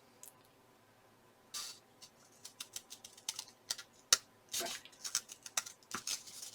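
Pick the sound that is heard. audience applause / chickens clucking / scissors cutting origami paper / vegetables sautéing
scissors cutting origami paper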